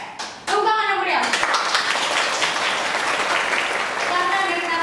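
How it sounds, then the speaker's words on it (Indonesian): Lively clapping erupts from the audience of an Indonesian talk show on urban planning graduates, bursting in after a short voice and holding steady, with a few voices audible over it near the end. "Oke, tepuk tangan yang meriah."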